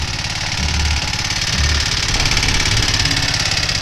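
A go-kart's small engine runs at a steady idle, a constant, close rumbling putter with slight knocking pulses and no voices.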